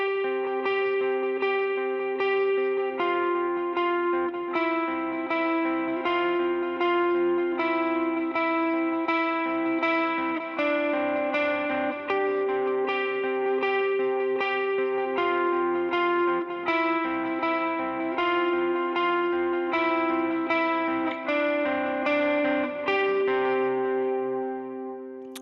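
Electric rhythm guitar plays the verse of Jesus Firm Foundation, with steady repeated chord strums rocking back and forth over a clear, lightly effected tone, loud and continuous with no talking.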